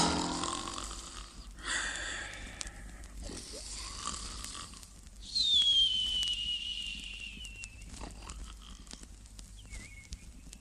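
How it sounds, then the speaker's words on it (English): A person lying on the floor snoring, a few drawn-out breathy snores separated by quiet pauses, with a brief whistling tone partway through, heard alone. "I shall just lie on the floor and snore"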